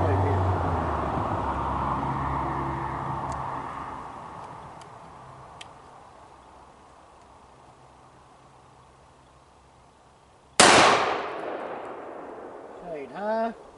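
A Taurus G2C pistol fired at a paper target cracks once, sharp and loud, after a long quiet stretch of low background noise, its echo trailing off briefly.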